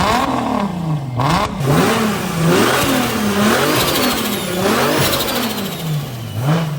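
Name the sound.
Toyota JZX100 engine revving with turbo spool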